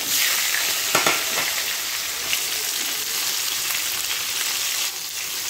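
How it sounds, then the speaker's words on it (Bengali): Pieces of pointed gourd (potol) seasoned with turmeric and salt frying in oil in a pan, a loud continuous sizzle with a few stirring scrapes, close up and without talk. "হলুদ লবণ দিয়া পটলটা ভেজে নেব"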